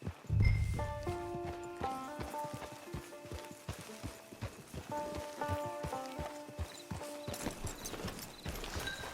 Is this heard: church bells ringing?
no